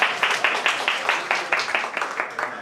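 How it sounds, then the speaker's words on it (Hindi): An audience claps together for Shukla at a retirement function, a steady rhythmic patter of hands over about three seconds, evenly paced and fairly close. "अगर ये बात सही है तो आप शुक्ला जी के लिए ताली बजाइए"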